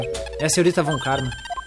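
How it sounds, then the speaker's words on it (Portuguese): A pager-like electronic beeping from the Phoenix Wright video game sounds as a short tonal blip under spoken dialogue, with a sustained high electronic tone running beneath the voices. "que barulho é esse bip-bip?"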